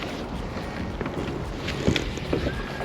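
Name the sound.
strong wind blowing on a boat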